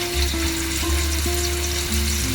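Chicken pieces marinated with turmeric, chili powder and salt fry in hot oil with a loud, continuous close sizzle and crackle, with no voices.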